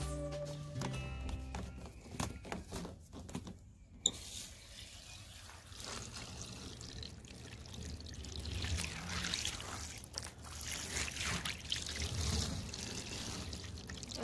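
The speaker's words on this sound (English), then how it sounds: "I'm just going to run the hose on it" A garden hose sprays water over the roof and newly fitted sunroof of a Mercedes Sprinter van, giving a steady hiss and patter that runs the whole time, close and fairly faint.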